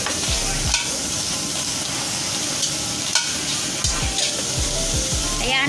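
Shrimp cooking in a pan with no oil, sizzling and frying steadily throughout with occasional stirring scrapes, close and fairly loud, no talk.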